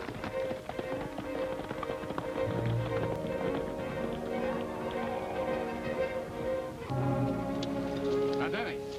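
Hooves of a horse galloping away in an old Western film scene, a rapid run of clip-clop beats under dramatic orchestral music, with brief speech.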